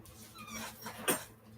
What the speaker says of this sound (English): the dogs are going off